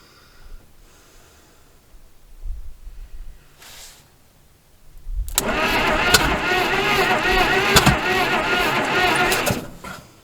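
A sputtering engine cranks and catches after a quiet start, then runs roughly with sharp pops back through the carburetor, a few distinct cracks standing out over the steady running noise.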